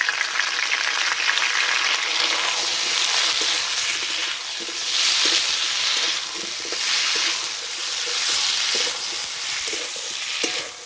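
Potatoes, tomatoes and ground spice paste fry together in hot oil for a gourd-greens dish, a steady bright sizzle with soft stirring scrapes throughout, close and continuous with no voices.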